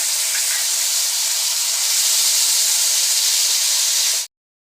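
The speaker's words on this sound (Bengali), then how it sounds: "এবার আমি ফোড়ন দিয়ে দিচ্ছি তেজপাতা কালো জিরে" Bay leaf and nigella seeds tempering in hot oil for a fish curry, a loud, steady, close hissing sizzle that runs unbroken for about four seconds and then cuts off abruptly.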